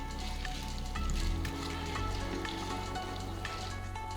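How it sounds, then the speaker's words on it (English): Red chilli, green chilies and asafoetida sautéing in hot oil for Andhra-style buttermilk rasam, a dense continuous crackling sizzle like light rain, steady and close with no voices. "Now add half teaspoon of asafoetida powder, 1 red chilli cut, 3 fresh green chilies and sauté them"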